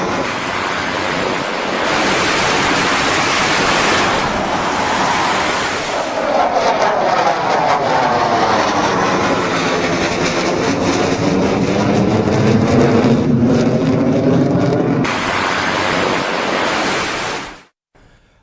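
Loud roar of US fighter jets flying past, a broad rushing blast that swells with a sweeping Doppler-like tone in the middle before easing off and cutting out abruptly at the end.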